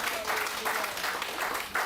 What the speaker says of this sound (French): Applaudissons le Seigneur pour ses paroles,